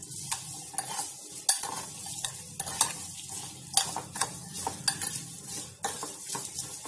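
Chopped green chillies being mixed with salt for a chilli vinegar pickle, giving irregular clinks and scrapes of a spoon against a dish in short, close bursts with no talking.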